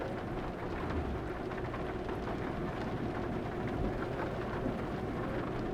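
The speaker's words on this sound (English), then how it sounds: "Enjoy the cozy sound of rain hitting metal." Rain drumming on the metal body of a truck in Euro Truck Simulator 2, a dense, steady patter with a low rumbling undertone, continuous and even throughout with no voices.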